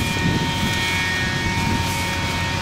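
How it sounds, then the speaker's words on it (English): Excavation machinery near a community garden gives a steady, loud outdoor rumble with a droning engine hum and a constant whine above it, unbroken throughout, with no talk. "That's the noise. They're doing some type of excavating over there."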